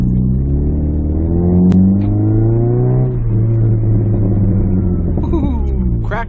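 A Chrysler PT Cruiser set up as a rally car revs its engine hard off-road, a loud rising and falling drone with crackling exhaust pops near the end.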